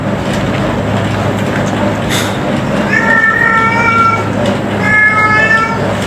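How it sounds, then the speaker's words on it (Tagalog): A cat meows twice, a pair of high wavering cries a couple of seconds apart, over a steady low hum of traffic or engine noise. "Ingay ng pusa."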